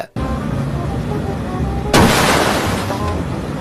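A firecracker hits a car with a sudden loud bang partway through, followed by a crackling, noisy tail over steady background rumble.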